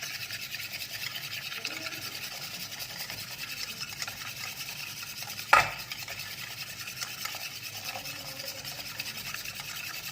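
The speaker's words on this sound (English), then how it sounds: "keep on stirring with one hand, and from the other I'm going to add milk" Eggs stirred briskly in a pan while milk is slowly poured in for caramel custard, a continuous soft scraping and rubbing of utensil against metal, with a single sharp clink partway through and no voices.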